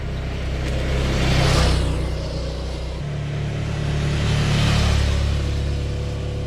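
Suzuki SV650X motorcycle engine pulling hard under acceleration, a steady droning rise that swells twice as revs climb and a gear is changed, heard alone with no talk.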